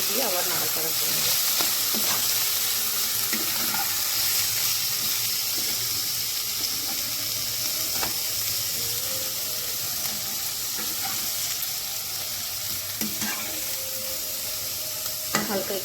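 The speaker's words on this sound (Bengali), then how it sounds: "এগুলো ভেজে রাখি, যখন চিকেন আসবে দিয়ে একবার ওর মধ্যে দিয়ে আবার নাড়াচাড়া করে নেবো" Continuous sizzling of food frying in a pan, with intermittent scraping and stirring knocks of a utensil, close by and steady throughout.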